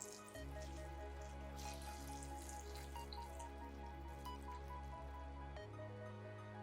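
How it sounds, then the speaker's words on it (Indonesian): Hot water pours steadily over dried chilies, a continuous splashing stream with a low hum underneath, ending with a brief shift in tone. "Kemudian siram dengan secukupnya air panas hingga cabai terendam."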